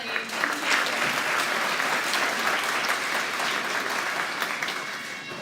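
An audience at an elementary school awards assembly gives a steady round of applause for a student named Lily, the clapping dense and even throughout with no voices breaking through.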